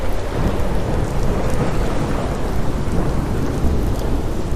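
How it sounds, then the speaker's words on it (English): A fierce thunderstorm at sea with heavy rain makes a loud, unbroken roar of pouring water and deep rumbling thunder that holds steady throughout, with no voices. "the storm grew worse"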